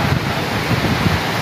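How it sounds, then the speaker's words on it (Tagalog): Strong storm wind tearing through bamboo and coconut trees during heavy weather, a loud, continuous roaring rush with low buffeting gusts and no voices. "sa lakas po niyan guys ng hangin."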